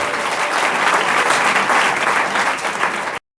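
A church congregation applauds the Lord, loud and sustained clapping filling the room for about three seconds before cutting off abruptly.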